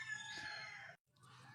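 A rooster crows loudly and near for about a second, a long strained call that cuts off abruptly, followed by quieter outdoor background.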